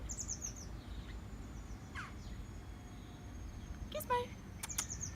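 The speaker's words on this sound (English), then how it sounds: "She can hear the birds." Birds chirp outdoors in short, scattered, faint calls against a low background rumble, with a few brighter tweets toward the end.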